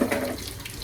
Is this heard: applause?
no